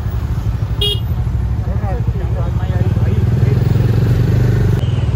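Heavy evening traffic in Srinagar near Dal Lake, with the steady rumble of cars and motorcycles close by and a brief horn toot, as voices talk over the street noise.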